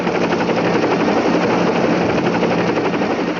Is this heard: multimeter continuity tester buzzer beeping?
no